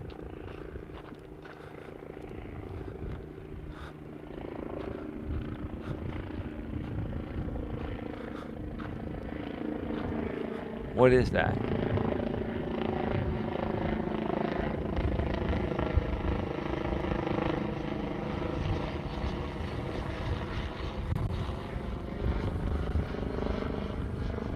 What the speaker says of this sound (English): That chopper is going very, very slow.